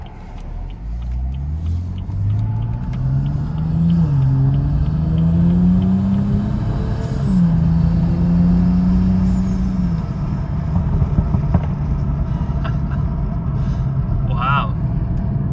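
BMW 435i engine with a new aftermarket air intake revving loudly in sport mode, rising and falling pitch sweeps over a steady rumble, with people talking over it.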